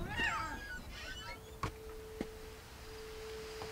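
A cat meows a few times in the video game What Remains of Edith Finch, short rising calls at the start followed by soft clicks and a steady thin electronic tone, fairly quiet with no talking.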